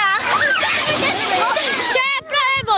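Children splash and slosh loudly in a murky stream running through a village, water churning continuously while kids shout and talk over it.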